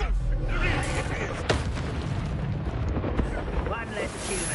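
A fiery Incendio spell blast in the Hogwarts Legacy video game, a loud booming roar with sharp cracks over sustained rumble, with voices over the combat.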